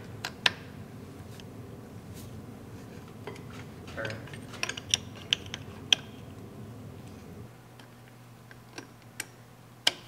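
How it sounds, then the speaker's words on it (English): A ratchet works at the drive shaft bolts of a 1965 Ford Mustang during a restomod rebuild, giving sparse clicks and metallic ticks over a low mechanical hum in a quiet garage. "So now we're going to unbolt the drive shaft."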